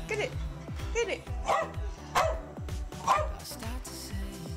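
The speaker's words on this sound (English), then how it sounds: "barking at random things, like this blouse for instance" A cocker spaniel barks repeatedly in a fast, steady rhythm, sharp yappy barks close by, with a voice talking faintly underneath.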